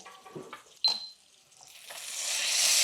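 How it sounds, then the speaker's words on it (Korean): Steak searing in foaming butter with garlic in a pan over low heat, a broad hiss of sizzling that swells steadily louder over a few seconds after some brief clatter. "이렇게 넣고 1분 정도 아로제라고 해서 여기 있는 이 버터물을 끼얹는 작업을 해줄 겁니다"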